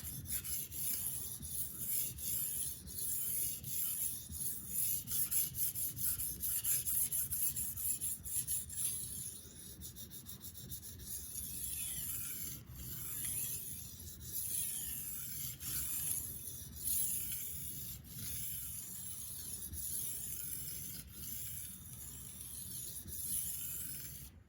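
A kitchen knife is sharpened on a slow whetstone with steady, quiet rasping strokes, an even rubbing and scraping that repeats close up without any talking.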